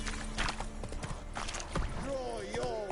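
Roach, a horse in the video game Witcher 3, clip-clops along in steady hoofbeats, with a short neigh near the end and talk over the top.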